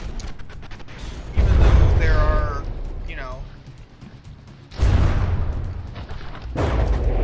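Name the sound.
shell explosions in video game From the Depths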